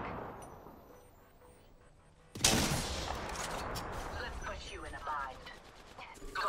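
Video game gunfire from Apex Legends erupts after a quiet stretch, a close, loud run of rapid shots and mechanical clatter that keeps going to the end, mixed with other game sounds.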